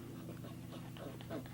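Puppies pant softly nearby in a quick, even rhythm, with faint breathy puffs and small snuffles over a low background hum.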